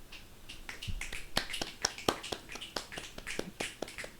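Scattered, uneven hand claps from a small audience at a poetry reading: a dozen or so sharp, dry hits spread over a few seconds, close by, with no steady rhythm.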